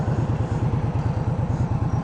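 A 2015 Indian Scout motorcycle with its stock exhaust runs at a steady, close, throbbing idle, its even low pulses repeating rapidly throughout.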